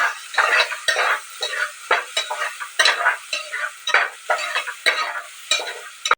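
Onions frying with turmeric and salt are stirred briskly in a pan, a steady sizzle broken by rhythmic scraping strokes, close and loud throughout with no talk.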